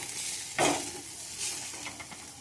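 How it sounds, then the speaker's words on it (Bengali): Potatoes fry in a pan with a soft, continuous sizzle, broken by a sharper scrape of stirring near the start and lighter stirring clicks later, close and fairly quiet. "এই আলু ভাজি করছি"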